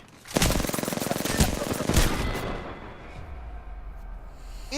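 Rapid automatic gunfire from a shooter video game, Apex Legends, bursts in loud and dense near the start, then trails off into fainter shots and ambient game noise.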